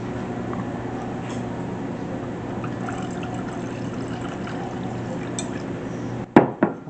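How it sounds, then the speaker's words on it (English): Dark rum is poured into a bowl for tiramisu beside a pan of simmering water, making a steady, fairly faint liquid trickle that runs for several seconds before a couple of brief clinks at the end. "now we'll do half a cup of dark rum"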